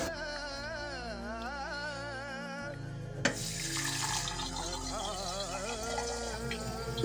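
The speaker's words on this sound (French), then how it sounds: "Et puis vous remplissez d'eau." Tap water runs into a teapot while chai is being prepared, a continuous gushing stream over steady background tones that grows fuller and louder partway through, with no speech.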